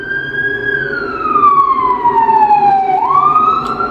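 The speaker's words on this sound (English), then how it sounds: "another siren." A siren passes outside, its wailing tone sweeping slowly down and then rising again. It sounds loud and steady over a low background rumble, with no talking.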